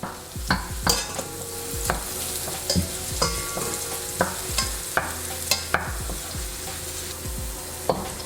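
Garlic and onion sautéing in hot oil with a close, steady sizzle and repeated knocks and scrapes of a spatula against the pan as they are stirred.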